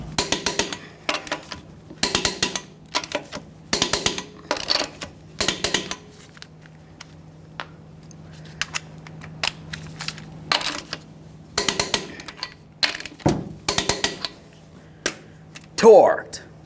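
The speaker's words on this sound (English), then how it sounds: "Torque each one of your lug nuts to 150 foot-pounds in a crisscross manner" A torque wrench tightens the lug nuts on a 2015-2020 Ford F-150 rear wheel, producing sharp metallic clicks and ratcheting bursts in irregular clusters, close and loud, with a steady low hum beneath.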